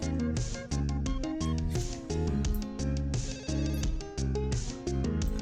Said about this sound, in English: I love it when people put old phone noises and internet noises into songs.